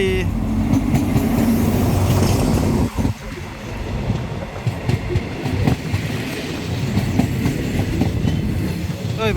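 A railway maintenance train, number 4228, rolls past at Bang Sue with a continuous heavy rumble and rhythmic wheel clatter on the rails, close and steady throughout, with a short dip in the middle.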